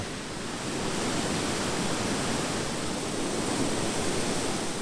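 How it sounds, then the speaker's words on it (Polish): A small waterfall in Beskid Sądecki near Piwniczna-Zdrój gives a steady, dense rush of falling water, constant and fairly close throughout, with no voices. "Wodospad stanowi również ciekawą atrakcję dla najmłodszych turystów."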